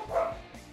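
A short, faint dog bark or yip, one brief burst from pet dogs indoors during a thunderstorm, heard at a distance.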